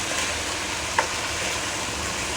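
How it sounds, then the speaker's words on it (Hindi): Beef sizzles in a pan with ginger and garlic for beef curry do pyaza, a steady close frying hiss with a single brief clink partway through. "इसको हम इस तरीके से गोश्त के साथ भूनेंगे"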